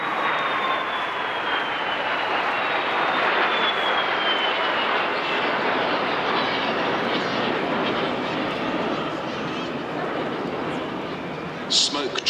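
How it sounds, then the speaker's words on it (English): Three BAC Strikemaster jet aircraft fly past at the Clacton Airshow, a loud broad roaring jet rush with a falling whine, sustained and slowly fading as they pass from the pier end. "that gorgeous sound of the 3 aircraft as they flew from the pier end past us on the commentary point"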